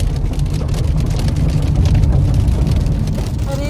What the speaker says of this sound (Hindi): और जो आवाज़ आ रही है वो बारिश होगी है।